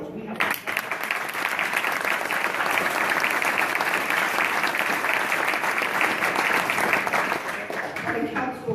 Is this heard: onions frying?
no